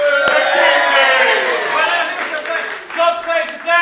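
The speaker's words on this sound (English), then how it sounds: "Give one last cheer in that case." Crowd at Dover Castle gives a loud, close cheer for the King, many voices shouting together and then tailing off over a few seconds.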